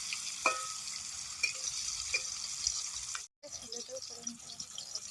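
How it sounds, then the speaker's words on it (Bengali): Rohu fish fries in oil in a pan with a continuous hissing sizzle, dotted with occasional crackles and faint clinks, broken by a brief gap before the frying continues. "এইদিকে মাছটা ভাজা হচ্ছে আর এদিকে মশলাটা করে নেব।"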